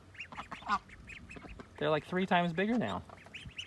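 Tall, upright-standing ducks quack in a loud, close burst of several calls partway through, while a person talks before and around them.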